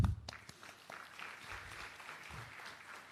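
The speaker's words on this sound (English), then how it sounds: "Let's give a round of applause for being here and graduating the class." At a postgraduate graduation convocation, an audience claps in scattered, fairly faint applause that comes through thin and distant in a large hall.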